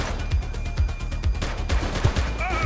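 A police shootout in a city crime video game: loud, close gunfire cracks in quick succession, several distinct heavy shots spaced irregularly over a busy background, with no voices over them.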